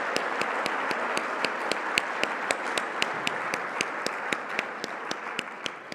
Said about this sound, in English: your applause had better reflect how happy we are to have her, Ms.Leesha Delatie-Budair.